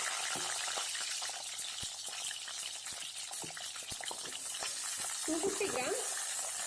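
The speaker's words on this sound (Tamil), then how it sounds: "எண்ணெய் நல்லா சூடானதும் இதுல சின்ன வெங்காயம் 1 கப் போட்டுடலாம்" Small onions frying in hot sesame oil produce a quiet, continuous sizzle with fine crackling and occasional stirring taps, steady from start to finish.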